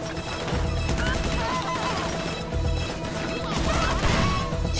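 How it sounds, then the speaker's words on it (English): Gunshots in GTA Online crack in a dense, continuous barrage of impacts and shots, loud and close throughout, with no speech over them. "Where are they shooting me from?"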